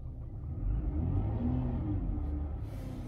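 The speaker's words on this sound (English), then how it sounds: "That's a motor that's running again." After a jumpstart from a truck in a park, a car engine idles with a steady, close, low rumble that swells slightly and then settles.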